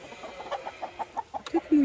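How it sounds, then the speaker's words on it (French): Chickens cluck in short, soft bursts every fraction of a second, nearby and fairly quiet, ending in a slightly louder drawn-out squawk. "Les poules sont déjà sorties."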